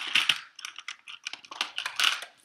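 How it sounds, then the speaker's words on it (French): Scissors snip through three black rubber loom bands while a zebra loom figure is being made, giving a quick series of small, crisp, close-up clicks and snips with no talking. "et on va venir couper les 3 élastiques noirs"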